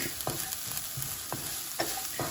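Onions and garlic, seasoned with salt and pepper, sizzle steadily in a pan for a coconut shrimp curry, with a constant frying hiss punctuated by a few soft scraping stirs and clinks.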